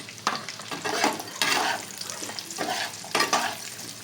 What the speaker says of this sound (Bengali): প্রথমে এটাকে একটু লাল লাল করে ভেজে নিতে হবে